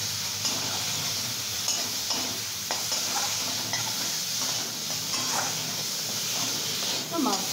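Bata fish coated in salt and turmeric frying in a pan give off a steady hiss with scattered scraping stirs, and a voice talks over much of it.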